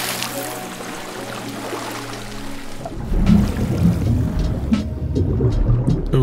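A game character plunges into water, with a splashy surge that opens into sloshing, bubbling environmental water sounds that continue steadily after the entry.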